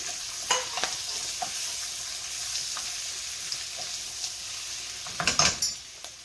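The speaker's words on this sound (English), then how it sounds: "I'm going to put my bok choy back in." Bok choy fries in a pan with a steady, close sizzle, broken by scattered scraping stir strokes that bunch into a louder clatter near the end; no voices.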